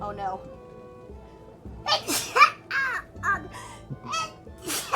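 A single sharp sneeze bursts out close to the microphone, followed by a few short voiced sounds and speech from the same person.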